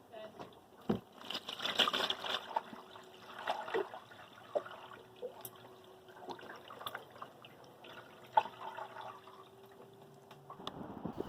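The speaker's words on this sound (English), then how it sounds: "one of the leaks we found was coming from our brand new hatch" Rainwater drips and trickles from a leaking, brand-new boat hatch during steady rain: scattered, irregular drops, some louder plinks, fairly close and quiet against a soft wet background.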